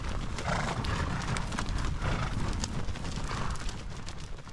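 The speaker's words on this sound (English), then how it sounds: "The horse drive is underway." A herd of horses on a drive pounds past, dense galloping hoofbeats in a steady loud rumble, with a faint whinny mixed in.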